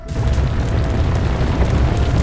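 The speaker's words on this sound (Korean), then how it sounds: "곳곳에서 폭발도 발생했다." Explosions amid the fire of a 29-vehicle pileup on the Seohae Bridge, burning along spilled fuel: a loud, continuous, deep roaring rumble close by that swells in the first moments and then holds steady without clear breaks.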